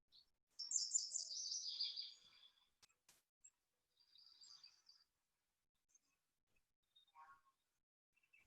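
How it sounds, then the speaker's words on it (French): Small birds chirp in a quiet countryside setting, a bright twittering phrase up close followed by sparse, fainter tweets and short calls separated by stretches of near silence. "écouter les petits oiseaux, l'eau"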